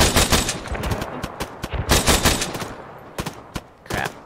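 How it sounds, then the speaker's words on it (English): Rapid machine gun bursts and scattered single shots crack in close succession during a Humvee ambush in the military simulation game ArmA 3, loud and dense at first, then thinning to sparse reports. "Taking fire."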